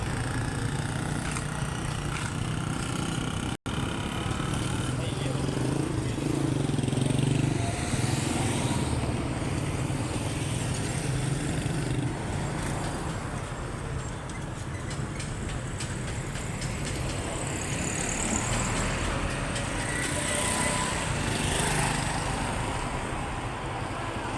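A motorcycle engine drones past amid outdoor traffic noise, its sound rising and fading steadily with no speech.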